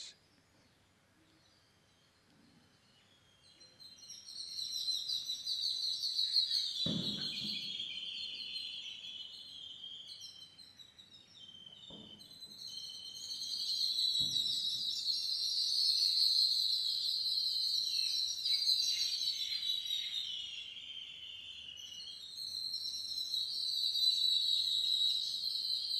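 Distant birds sing and whistle in shrill, overlapping phrases that swell and fade in long waves, with a few dull knocks and thumps close by.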